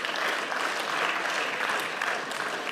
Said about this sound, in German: Ja, das ist wirklich Applaus wert.